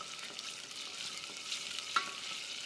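Garlic sautéing in hot oil in a pan for potato pulao gives a steady, soft, continuous sizzle with a faint click partway through.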